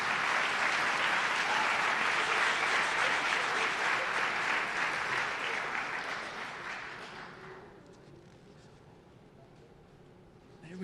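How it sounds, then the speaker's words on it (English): An audience applauds loudly and steadily at a community event honouring girls' club leaders, the dense clapping holding for about seven seconds before thinning and fading to quiet. "let's give them another round of applause."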